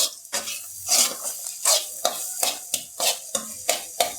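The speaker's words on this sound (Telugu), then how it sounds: "అడుగంటకుండా ముక్కలన్నిటిని బాగా కదుపుతూ ఉండాలి." Half a kilo of bitter gourd pieces fry in oil in a pan, crisp sizzling under repeated scraping strokes of a spoon, close and rhythmic, about a dozen stirs in quick succession.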